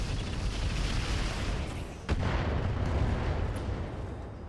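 Mech weapon fire in the RogueTech game comes as a dense, roaring wall of booming noise, with one sharp crack cutting through midway before the rumble carries on.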